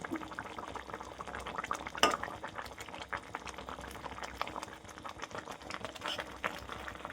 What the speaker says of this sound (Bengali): এখানে 5 থেকে 10 মিনিট পর্যন্ত মাছগুলি ঝোলে ফুটতে দেবো